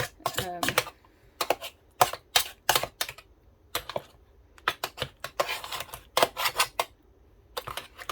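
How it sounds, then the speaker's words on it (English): A food mill turning persimmon pulp produces quick bursts of sharp, clacking mechanical clicks in an uneven rhythm, close and fairly clear with pauses between strokes. "I guess you keep milling until you feel like you've got as much as you can get out of your pulp"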